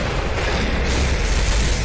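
Artillery fire and explosions in the video game Off The Grid, a dense continuous low rumbling boom that stays loud and steady throughout without distinct separate blasts.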